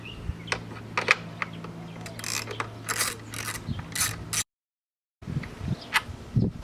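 Socket ratchet clicking as 10mm nuts are loosened from the plenum cover on a Corvette C7 engine, a series of short, sharp ratcheting bursts close up, with a brief silent gap before more clicking resumes.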